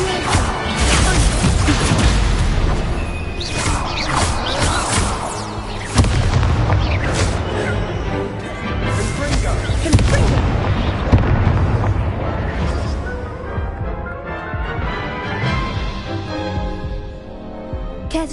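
Fire spell cast during a Hogwarts Legacy duel, a loud booming burst of magical flame and crashing impacts that rumbles on through dense game action, with faint voices mixed in.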